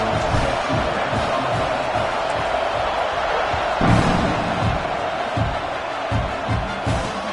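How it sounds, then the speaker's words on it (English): A stadium crowd in the College Football 26 video game keeps up a dense, constant roar at a Utah versus Oklahoma matchup, swelling in brief surges with thumping hits underneath. "this crowd is buzzing after that last score"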